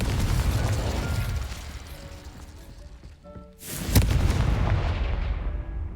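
Incendio and Confringo spell blasts from the video game Hogwarts Legacy: loud rumbling explosive bursts with a sharp crack near the middle, followed by a heavy booming roar that tails off.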